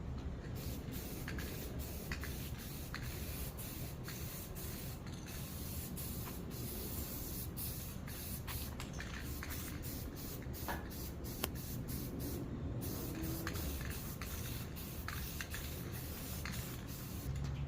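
Steady hiss of a spray can laying gloss paint onto a Honda CRX rear bumper support, continuous and close with a few brief pauses and clicks, no talking.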